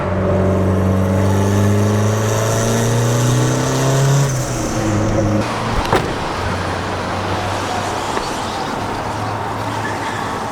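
A turbocharged Honda Civic engine revs hard at full throttle, its tone climbing steadily for several seconds before it gives way to a loud, steady rush of road and wind noise.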